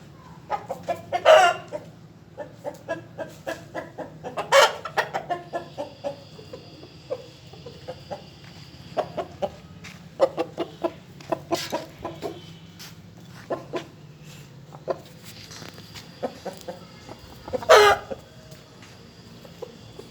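Caged Sindhi Aseel chickens, a rooster and a hen, give repeated nearby clucks and sharp calls, with a few louder crowing bursts standing out over a quiet yard hum.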